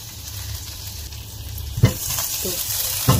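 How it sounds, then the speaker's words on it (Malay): Shrimp fry in a pan for pad Thai, a steady close sizzle with occasional louder spatters and stirring knocks, a voice talking briefly over it. "Kita goreng udang dia dulu."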